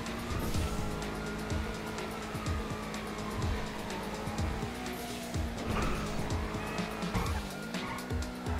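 A car in a video game heist roars along with its engine droning continuously while tires repeatedly squeal and skid in short bursts, loud and close throughout.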